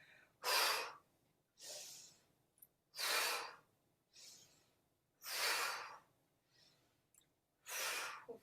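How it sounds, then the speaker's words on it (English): Five strong, breathy mouth exhales come at a steady rhythm about every 1.3 seconds during a qigong pump exercise, with a fainter breath between each, close and clear with no talk. "So again, we have mouth exhale."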